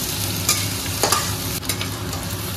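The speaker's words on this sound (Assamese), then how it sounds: "একদম ধুনীয়াকৈ ভাজি ল'ম এতিয়া" Onions fry in hot oil in a pan, sizzling steadily up close, with a few soft scrapes from stirring and no talk.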